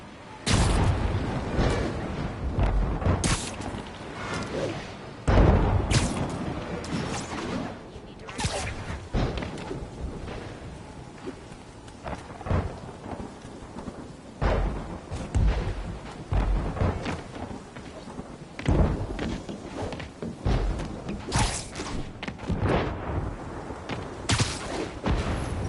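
A thunderstorm in Marvel's Spider-Man video game, with repeated heavy booms and crackling thunder strikes over a rumbling storm bed, some louder, closer hits punctuating the steady roar.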